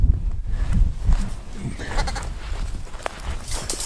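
Baby Doll sheep on a farm bleat in short, close, overlapping calls over shuffling and rustling noise, with no talking.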